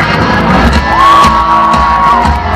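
A concert crowd at a live show in San Antonio, Texas, screams a single word in unison, a loud sustained roar of shouting and whooping voices.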